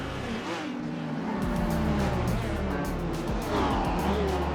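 Racing cars in a video game, a Triumph TR3B among them overtaking, roar past with engine drone and brief tire squeal, loud and close throughout.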